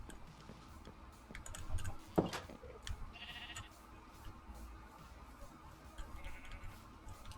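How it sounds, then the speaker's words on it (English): Bleating of a magenta sheep in a video game, a few short calls heard faintly over soft game ambience and clicking, with no talk. "Some random magenta sheep?"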